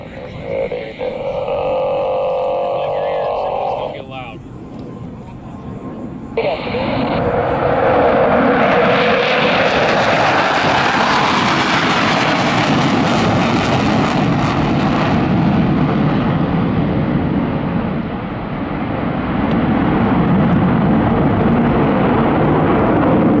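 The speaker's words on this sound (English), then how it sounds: "the boss will call for them to light their afterburners" Blue Angels jets with GE F404 engines lighting afterburners at an air show at NAS Pensacola, a huge rising roar that swells and holds loud for many seconds. Announcer talk over a loudspeaker comes before it.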